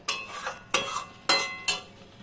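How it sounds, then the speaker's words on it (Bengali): Paneer being stir-fried with masala in a pan, heard as four sharp scraping clatters of a spatula against the pan, evenly spaced about half a second apart, close and fairly quiet. "এখন ধীরে ধীরে পনিরটাকে কষাবো"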